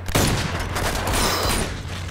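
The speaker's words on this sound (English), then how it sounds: "Is this a shotgun pistol?" Dense, continuous gunfire from a shotgun pistol in the Uncharted 2 video game, loud booming blasts layered into a steady fusillade with no pauses, close and overpowering.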